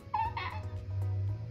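A cat meows a few times in a drawn-out, sing-song way over a steady low background hum, close and fairly clear, with no talking.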